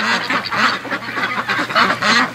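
A group of farm-raised ducks quacking loudly and close by, with rapid overlapping calls throughout and no human voices.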